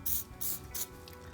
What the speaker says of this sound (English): So basically what I'm gonna do is spray it onto the sticker